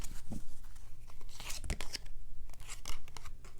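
Tarot cards pulled and shuffled from a deck give soft papery rustles, slides and crinkles in quick irregular bursts, close up, with no talk.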